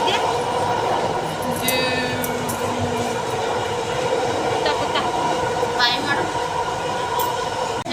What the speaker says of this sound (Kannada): ಸೊ ಇವಾಗ ಮೆಟ್ರೋ ಸ್ಟೇಷನಲ್ಲಿ ಕುಂತಿದ್ದೀವಿ. ಆ್ಯಂಡ್ ಮೆಟ್ರೋಗೂ ಕೂಡ ವೆಯ್ಟ್ ಮಾಡ್ತಾ ಇದ್ದೀವಿ.